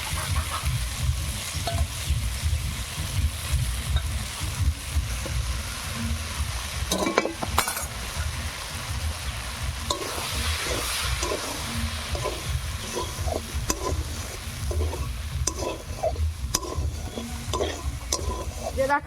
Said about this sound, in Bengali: ধুয়ে ছাতু দিয়ে মেখে রাখা মুড়িটা এবার দিয়ে দেব।